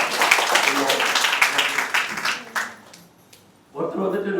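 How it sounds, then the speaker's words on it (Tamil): An audience claps at a Rotary Club women's empowerment event for a pink auto-rickshaw handover; a dense burst of clapping and speech fades after a few seconds, with voices returning near the end. "நம்ம கைத்தட்டி கொடுக்கணும்"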